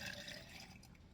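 Liquid pours steadily into a drink of crushed watermelon, pineapple and coconut, a soft continuous trickle and splash, fairly faint and heard alone.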